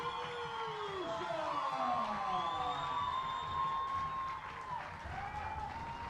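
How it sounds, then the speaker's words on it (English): A soccer crowd at an FC Tucson match against the Colorado Foxes cheers and applauds after a goal, a distant, diffuse roar with whistling tones drifting over it, steady and fairly faint. "Gives the fans something to cheer about."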